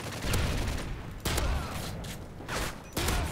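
Rapid bursts of gunfire from the Call of Duty: Modern Warfare 3 video game crackle in several loud volleys, separated by short gaps with mechanical clatter between.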